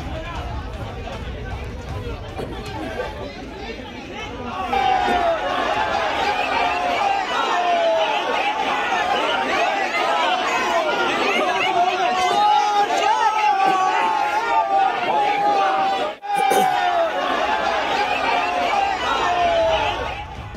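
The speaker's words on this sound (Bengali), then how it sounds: "নিজাম থেকে বের করার সময় সন্দীপকে দেখে চোর চোর স্লোগান দেয় ক্ষুব্ধ জনতা।" An angry crowd chants 'thief, thief' slogans at Sandip Ghosh as he is led out; a dense, loud, continuous roar of many voices with a rhythmic chanting line on top, sustained throughout after a quieter start.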